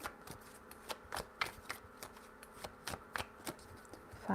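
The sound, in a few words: shuffling tarot cards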